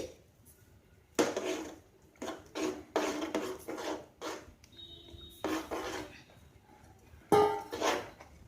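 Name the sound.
stirring flour into boiling water in a pot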